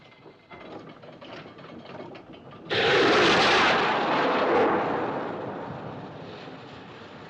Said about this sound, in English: Looked like a rocket, sir.